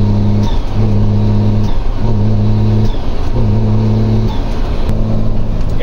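A Scania truck's diesel engine rumbles loud and close, a deep continuous drone with a pulsing, repeating low hum, and no one speaks over it.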